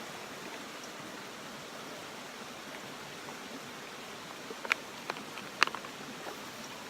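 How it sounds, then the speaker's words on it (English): Water trickles softly in a steady, faint stream out of a Sawyer water filter, with a few small drips and clicks near the end. "it's just a little bit of water coming out at a time"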